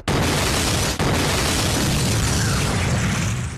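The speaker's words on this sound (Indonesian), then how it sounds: "membakar tempat itu dengan sebuah ledakan besar" A large anime explosion engulfing the Orochi dojo in Boruto, a loud sustained roaring blast with a dense rumble that holds for several seconds and barely fades, alone without talking.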